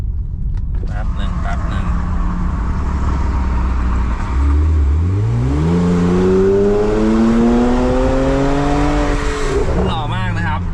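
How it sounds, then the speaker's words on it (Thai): BMW F10 non-turbo with a Euro Arts aftermarket exhaust, heard from outside as the engine revs up, a loud rising growl climbing steadily in pitch, then dropping back, with voices talking over it. "อยากได้ชุดท่อหล่อๆแบบนี้ใน BM F10 ได้ทั้งเรื่องอัตราเร่งแล้วก็เสียงแบบซุปเปอร์คาร์แบบนี้นะฮะ"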